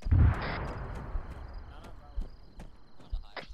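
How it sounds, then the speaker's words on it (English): A helicopter crash explosion in the Arma 3 video game lands as a deep, heavy boom at the start, then rumbles and decays into the distance under scattered clicks and faint background noise. "The heli just crashed."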